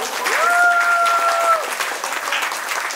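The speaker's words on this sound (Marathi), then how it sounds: "सगळ्यांनी टाळ्यांच्या गजरात टाळ्या वाजवायच्या" A crowd of guests bursts into loud, sustained applause at a baby naming ceremony. A brief steady tone rises over the clapping early on, and the clapping carries on dense and even throughout.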